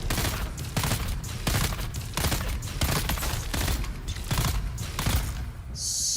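Rapid bursts of gunfire in a video game as a player shoots at an enemy heavy, loud, dense volleys repeating through the whole stretch with no talk over them.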